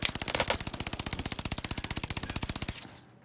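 Rapid automatic gunfire in a video game, a fast, steady burst of about thirty evenly spaced shots lasting nearly three seconds before cutting off to quiet.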